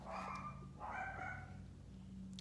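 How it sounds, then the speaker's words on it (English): Pet dogs barking indoors in a quiet room: two bursts of barking and yipping, a little distant, with no talking over them. "Can you hear my dogs?"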